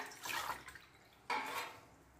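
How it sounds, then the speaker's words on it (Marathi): Water is poured from a small vessel into a large cooking pot in two short splashing bursts, close and fairly quiet, with a pause between them. "इथे एक मोठं पातेलं घेतलेलं आहे, त्याच्यामध्ये आपण पाणी टाकून घ्यायचं"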